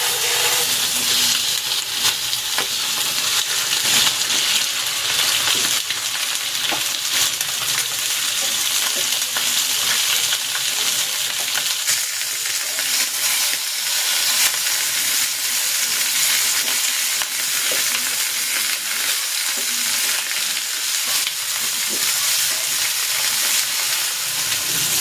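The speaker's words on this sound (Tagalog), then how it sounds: "I-sear ko muna itong chicken." Marinated lemongrass chicken pieces sear in hot cooking oil with a loud, close, continuous sizzle and crackle that holds steady throughout.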